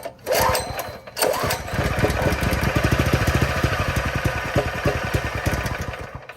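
A small go-kart engine on an adult-size one-seater Murray go-kart, with a carburetor still needing cleaning, sputters briefly, then catches and runs with a loud, fast, steady chugging putter close up.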